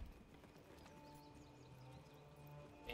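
A horse's hooves clip-clop steadily in a Manor Lords medieval town, faint and distant under a quiet ambient bed with a soft musical drone.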